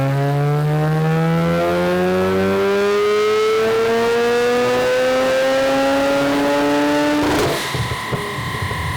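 A turbocharged Mazda 13B rotary engine screams loudly on a dyno pull, its rising howl climbing steadily for several seconds before cutting off abruptly with a burst of noise.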